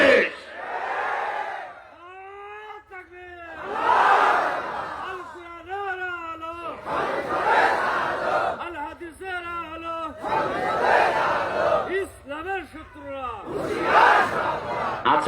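A crowd at a political gathering chants the Naraye Takbir slogan. A single leader's calls alternate with loud collective shouted responses, several rounds over about fifteen seconds.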